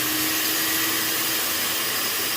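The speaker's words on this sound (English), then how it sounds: "I'm going to turn my vacuum on just so you can hear it" A Surf Prep POV-8 dust extraction vacuum runs with a steady, loud broadband whoosh and a faint constant hum, uninterrupted.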